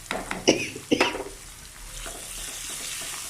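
Sliced garlic and curry leaves frying in a pan, two sharp stirring scrapes of a spoon against metal at the start, then a steady quieter sizzle carrying on alone.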